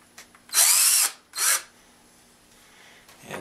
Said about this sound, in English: I take a couple of screws and screw it down into the foam